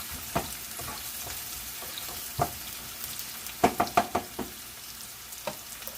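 Roughly chopped onions cooking in a pan for stuffed red peppers, a low steady sizzle broken by a few sharp clinks and knocks of a utensil stirring, a quick cluster of them near the middle, with no voices.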